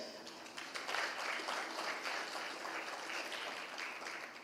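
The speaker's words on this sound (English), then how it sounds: "Please join me with another round of applause." Audience applause at the close of a Blue Economy round table panel discussion, steady and moderately distant, a dense wash of many clapping hands sustained throughout with no voices.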